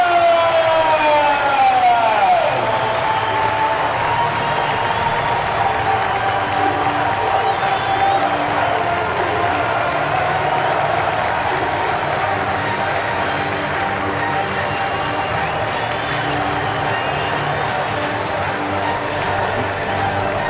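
A large crowd cheers and roars at a 2008 Hull KR versus Wigan rugby league match, a sustained wall of noise with a rising whistle or siren-like tone near the start.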